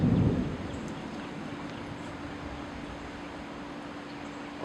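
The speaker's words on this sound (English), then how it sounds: "Oh, here comes the rain." Rain arrives during an early morning thunderstorm under a tornado warning near St. Augustine, Florida, a soft steady hiss of rainfall with a low rumble at the start, continuous and moderately distant.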